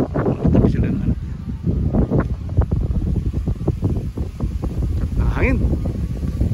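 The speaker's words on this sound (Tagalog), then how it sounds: "Hangin." Gusty outdoor wind roars against the microphone beside a two-storey house, loud and buffeting throughout with a brief voice-like sound near the end.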